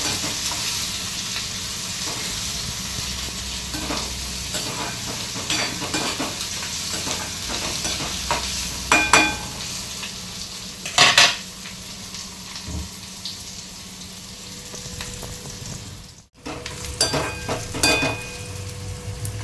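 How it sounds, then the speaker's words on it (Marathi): Onion and green chilies fry in hot oil with curry leaves in a pan for a boiled-potato bhaji. A steady close sizzle runs throughout, broken by several scraping stirs of a spoon. "कांदा घालायचा, मग मिरची घालायची, चांगलं परतून घ्यायचं"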